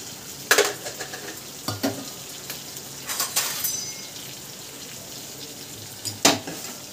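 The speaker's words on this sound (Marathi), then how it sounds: "छान असा मसाला परतून घेऊ." Eggplant and masala sizzle and fry in a pan with a steady hiss while a spoon scrapes and stirs in irregular bursts, nearby and fairly loud.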